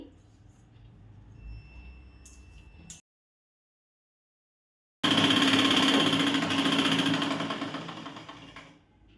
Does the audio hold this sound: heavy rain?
no